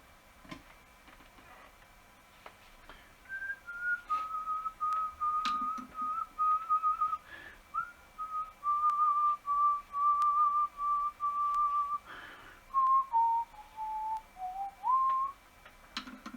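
A man whistles a film theme alone in a quiet room, a thin wavering melody of sustained tones that slide and dip, stopping briefly between phrases.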